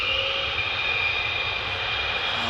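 A 48th Fighter Wing fighter jet taxis in to park, its engine a steady, loud whine and roar held at an even level with no break.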